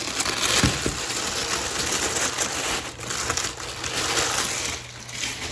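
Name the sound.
unwrapping packaging from new inline skates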